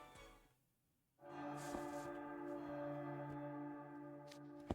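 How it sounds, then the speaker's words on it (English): The Bell of Solace tolls in Twisted Wonderland, a deep resonant church-like bell swelling in after a quiet moment and ringing on with rich sustained overtones, loud and reverberant, with no voices. "Is that the Bell of Solace? It must be. There's no mistaking that distinctive ring."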